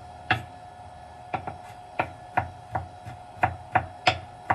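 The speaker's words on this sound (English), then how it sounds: "So I'm just chopping this very, very, very finely, because if you get a giant piece of garlic, it's pretty spicy." Knife chopping garlic finely on a cutting board for raw vegan pico de gallo, about a dozen crisp, close taps in an uneven rhythm, with no talking.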